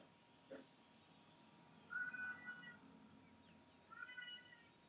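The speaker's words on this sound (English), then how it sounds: "Listen to that cat." A cat meows faintly several times, a short cry followed by two longer, drawn-out calls a couple of seconds apart, distant and alone over a quiet background.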